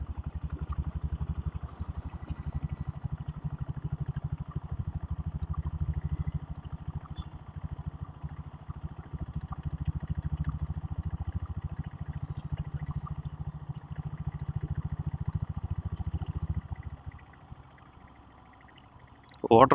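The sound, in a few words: diesel Bullet motorcycle engine revving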